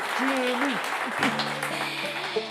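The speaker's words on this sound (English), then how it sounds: "how about we get one more round of applause for Jimmy Touzel, the first half of the show" Audience applause at a live bluegrass radio show, a steady wash of clapping throughout while someone speaks over it.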